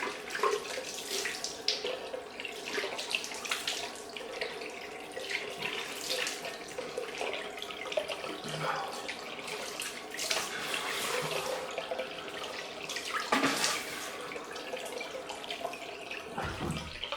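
A tap runs steadily for a cold rinse after shaving, water splashing continuously into a sink at close range with soft fluctuations throughout.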